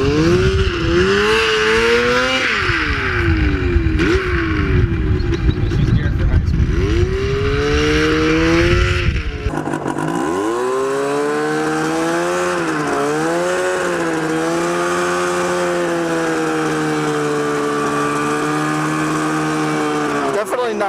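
A 100HP go-kart engine revs hard during a first test drive, its pitch rising and falling repeatedly. It sounds rough and loud up close at first, then smoother and steadier as the kart pulls away.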